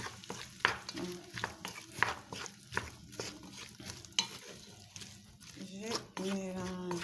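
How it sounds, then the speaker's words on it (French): A plantain and mushroom ragout with tomato paste is stirred in a pot, with rhythmic scraping strokes over a light sizzle, close by, while someone talks throughout. "Je vais ajouter après et je mélange."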